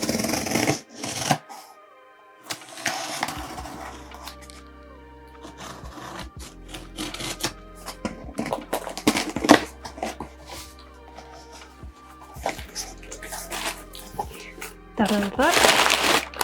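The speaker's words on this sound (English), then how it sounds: "So let's open this package. So let's cut it open." Manga shipping package being cut open and unwrapped, with bursts of crinkling plastic and rustling cardboard, sharp slicing and tearing sounds, and pauses of near quiet between them.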